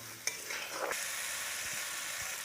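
Chickpeas cooked with salt and dry chilli powder are stir-fried in a pan, making a soft, steady sizzle with a light scrape or knock near the start and nothing else over it.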